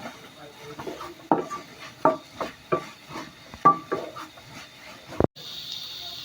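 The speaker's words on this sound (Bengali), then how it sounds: "এখন আমি নেড়ে চেড়ে মিক্সড করে নেব" A spoon stirring and scraping carrot halwa with milk powder in a pan, giving a series of irregular clanks and scrapes against the metal over a quiet background, ending with one sharp knock.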